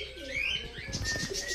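Teddy pigeons in a loft coo softly with a few chirps and a brief burst of fluttering wings, close and moderately quiet.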